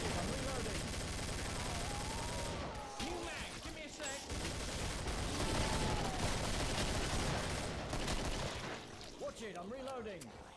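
Rapid semi-automatic gunfire in the Killing Floor shooter game, a dense stream of shots over a noisy battle backdrop with voices talking throughout.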